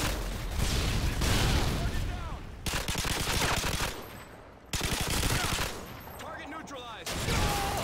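Sustained bursts from a light machine gun in Modern Warfare 2, loud and close, broken by a few short gaps between long strings of rapid shots, with a speaking voice faintly under the gunfire.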